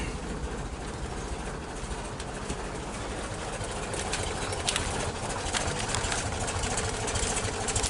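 A 1977 Volkswagen Sunliner campervan's engine idles with an even, low rumbling hum, fairly quiet and steady for eight seconds, with faint bird calls in the background.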